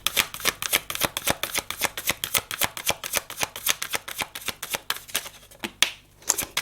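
Tarot cards are shuffled and drawn close by, crisp rhythmic riffles and slaps repeating steadily, with a short pause near the end before the card handling resumes.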